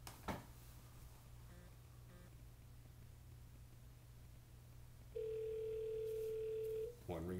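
A single steady ringback tone sounds for about two seconds on a call placed from an iPad, preceded by faint handling rustle and a constant low hum.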